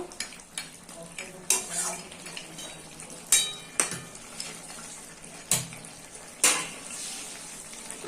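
Fried bori stirred into a pan of prawns, ridge gourd and potatoes, with a steady oily sizzle broken by repeated sharp clinks and scrapes of a spoon against the pan.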